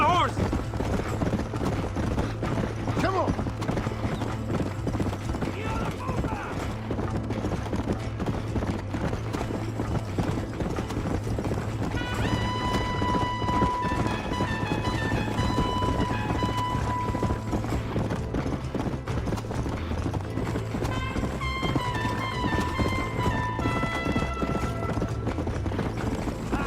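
Rapid, steady galloping horse hooves in the Red Dead Redemption video game, clip-clopping loudly across the whole passage while game music and speaking voices play over it.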